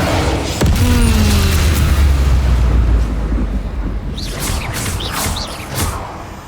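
A loud spell blast from Avada Kedavra in Hogwarts Legacy bursts out with a deep boom and low rumble, then trails into whooshing magical crackle and lighter bursts near the end.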